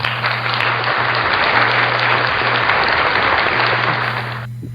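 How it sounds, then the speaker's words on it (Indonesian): Classroom applause for a student's answer in a technical lesson on sensors, a loud, steady burst of clapping from a group lasting several seconds, over a low electrical hum, then fading out. "Saya kasih dulu tepuk tangan untuk Hilmi."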